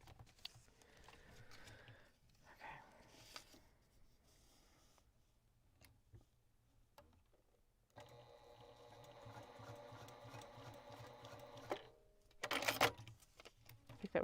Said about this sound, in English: I think that was like 7 stitches on the machine.